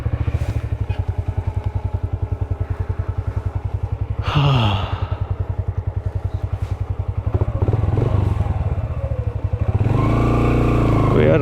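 A motorcycle rides along a rough, broken mountain road, its engine pulsing steadily and loudly close to the mic with occasional revs, clatter and wind buffeting.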